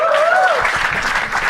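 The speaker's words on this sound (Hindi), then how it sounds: "शिवांश भाई के लिए जोरदार तालियां एक बार यार" A studio audience on a comedy talent show breaks into loud, dense clapping for a contestant, a short burst of applause close and steady throughout.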